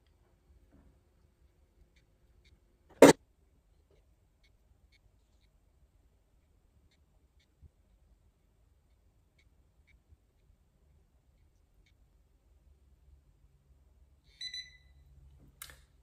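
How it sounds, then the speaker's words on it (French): A Ziip Halo microcurrent facial device gives two short, faint electronic beeps near the end in an otherwise quiet room, after an earlier single click. "il a sonné 2 fois. Ça veut dire que c'est terminé."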